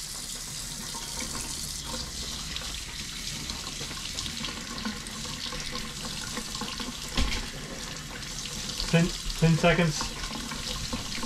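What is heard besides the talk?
sink faucet running water from tankless RV water heater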